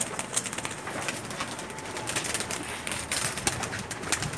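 Zeera Teddy pigeons cooing in a loft, soft repeated coos and faint rustling layered over a steady, busy background with no talking.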